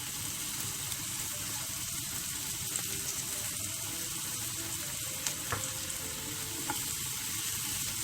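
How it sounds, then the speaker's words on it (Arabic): Chopped onions fry in a pan with salt for a ground-meat cannelloni filling, giving a steady, close sizzle with faint crackles and a few light utensil taps throughout. "ونخلوها تقلى"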